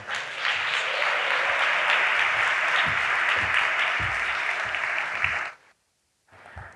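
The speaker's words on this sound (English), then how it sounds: "So please give a round of applause." An audience at a design conference claps steadily and loudly for about five seconds as a speaker is introduced, then the clapping stops abruptly, leaving near silence with faint room noise at the end.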